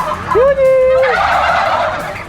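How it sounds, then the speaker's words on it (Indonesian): A male turkey gobbles loudly and close by, one sharp rising-then-falling rattling call followed by a noisy trailing burst, with no talk over it. "yang paling jelas cuma kalkun jantan yang bisa mengeluarkan suara nyaring seperti suara kluk kluk kluk"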